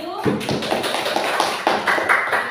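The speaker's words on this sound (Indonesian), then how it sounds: "Kita beri aplaus kepada kelas 7." Applause in a classroom for class 7, a short patter of claps and taps from a group, fairly loud and close, building slightly toward the end.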